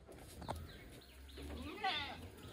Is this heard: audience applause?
no